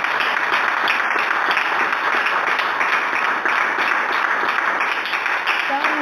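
A church congregation applauds in praise during a French-language sermon, a steady dense wash of clapping that fills the space evenly from start to finish.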